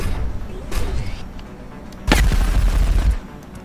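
In XCOM Long War, gunfire aimed at a tank lands as a sharp, heavy crack followed by a sustained booming rumble for about a second, with lighter distant shots scattered before it.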